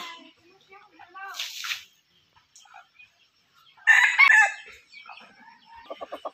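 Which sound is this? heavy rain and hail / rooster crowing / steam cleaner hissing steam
rooster crowing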